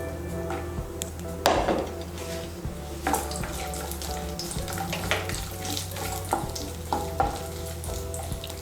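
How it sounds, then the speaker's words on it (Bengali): Cashew nuts fry in hot ghee and oil, sizzling steadily with occasional sharp crackles and the clink of a spatula stirring through the pan, close and continuous. "ঘি আর তেলটা গরম হলে এর মধ্যে প্রথমেই আমি কাজু বাদাম আর কিশমিশগুলো ভেজে নেব"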